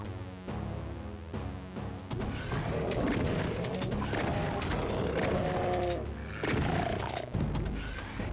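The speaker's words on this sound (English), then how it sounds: "Oh, thank you, exploding barrels." Exploding barrels in the 1993 Doom game, a chain of heavy crashes and thuds layered with gunfire and in-game noise, loud and busy across the whole stretch.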